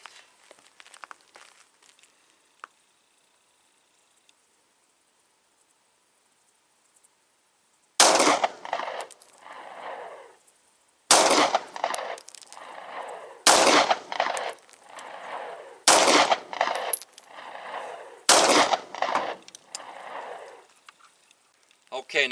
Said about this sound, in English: I got 5 rounds of my 147 grain hand load in the M&P 9. I'm going to put it on the left target down here.